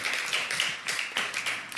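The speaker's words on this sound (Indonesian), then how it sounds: "Tepuk tangan buat semuanya." Scattered hand claps from a congregation at an IFGF Jogja Sunday church service for Independence Day, the sharp individual claps loose and uneven and fairly soft, with no voices.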